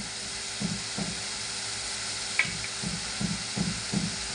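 Onion and tomato masala with turmeric sizzling in a pan, a constant loud hiss with several soft rhythmic stirring strokes, near and without talk.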